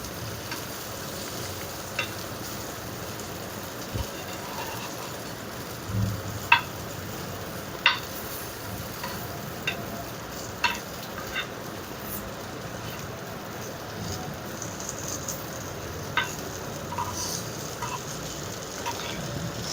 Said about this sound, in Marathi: सो हे बघा आता याला चांगलं दोन्ही बाजूने फ्राय करून घ्यायचं.